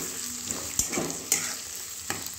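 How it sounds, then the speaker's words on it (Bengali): Onion, capsicum and chopped green chilli for chili paneer fry in a pan with a steady sizzle, broken by a few sharp spatula scrapes and knocks as the mix is stirred. "এটাকে আবার ভালো করে নেড়ে নেব"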